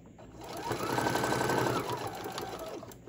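A sewing machine stitches a bowl koozie seam in one smooth, continuous run, its motor whirring close and steady for a few seconds before slowing.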